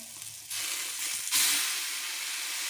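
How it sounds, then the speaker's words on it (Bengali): Ground spice paste hisses and crackles as it fries in oil with browned onions and Kashmiri chilli powder, a steady close sizzle that surges louder partway through as the mixture is stirred. "মশলাটাকে খুব ভালো করে কষিয়ে নেব তেল ছেড়ে যাওয়া অবধি।"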